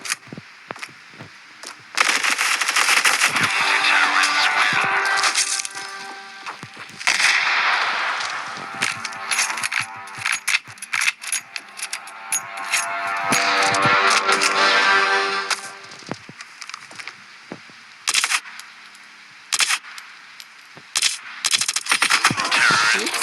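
Loud, rapid pistol gunfire from the mobile shooter game Standoff 2 comes in bursts of sharp cracks with short pauses between volleys, close and dominant, with no talking.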